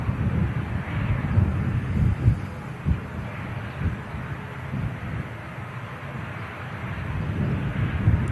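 An EasyJet airliner arriving from Amsterdam at Manchester Airport rumbles low and moderately loud, swelling and easing with wind buffeting on the microphone.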